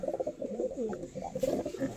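A Kalanka pigeon, one of a mated pair, coos softly nearby in a short warbling low run of notes, faint but clear over quiet surroundings.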